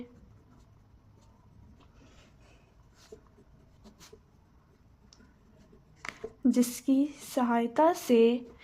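A teacher writes on a board during a chemistry lesson, making faint, scattered scratching strokes and taps in a quiet room before a voice begins speaking.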